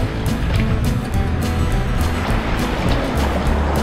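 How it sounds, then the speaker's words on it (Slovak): Steady roar of Baltic Sea surf at Darlowo, with broad rushing water noise throughout, waves breaking close by without pause. "To bola dobrá vlna."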